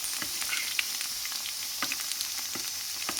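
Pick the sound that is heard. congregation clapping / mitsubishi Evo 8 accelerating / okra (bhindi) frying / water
okra (bhindi) frying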